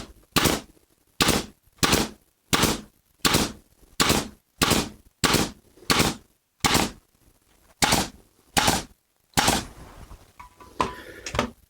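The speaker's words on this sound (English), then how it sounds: "I just fired nails along the same line" A nail gun drives nails into wood, about a dozen sharp, loud snaps spaced under a second apart in a steady rhythm, with a little rustling afterward.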